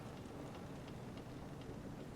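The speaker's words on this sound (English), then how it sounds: "the rain starts pouring over them" Steady downpour of heavy rain over a stormy sea, a dense continuous hiss with scattered drop patters, uniform in level throughout with no voices.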